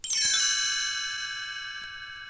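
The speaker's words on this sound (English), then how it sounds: "You will know it is time to turn the page when you hear the chimes ring like this." Chimes ring as a page-turn cue in a read-along story. One bright, shimmering metallic strike has many high tones that sustain and slowly fade over about two seconds.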